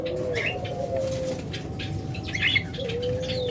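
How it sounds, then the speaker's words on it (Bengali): A pair of lovebirds flutters and flaps close by, with brisk wingbeats and chirpy calls over a steady background hum. "প্রথমে আপনাদের একজোড়া লাভবার দিয়ে শুরু করছি দেখুন"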